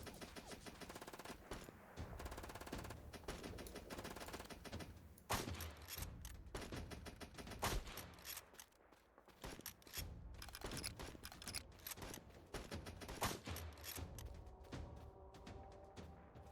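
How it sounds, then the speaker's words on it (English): Machine gun fire and passing bullets in The Patriotic War, rapid bursts of shots crackling in irregular volleys with sharp louder cracks, continuous battle noise and no talk. "I can see the bullets sailing past him."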